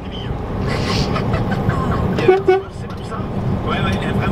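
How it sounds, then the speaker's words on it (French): Two short truck horn blasts sound in busy traffic, rising over the steady rumble of engines and road noise, with a voice in the background. "Alors j'ai klaxonné, pas pour leur faire peur"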